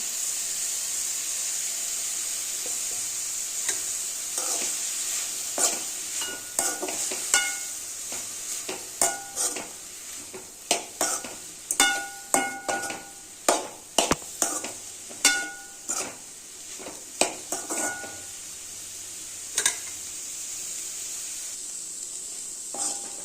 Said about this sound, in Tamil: தேங்காய் ஜீரகம் போட்டு ஒரு ரெண்டு நிமிஷம் நல்லா கிண்டிட்டேங்க